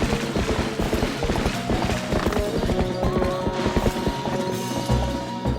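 Horse hooves clip-clop steadily at a gallop in Zelda: Twilight Princess, a dense, rhythmic thudding close up under game music, with no speech.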